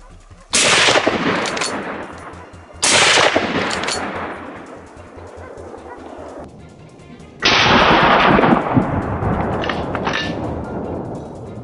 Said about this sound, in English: The gunshot rang out decisively, and the boar collapsed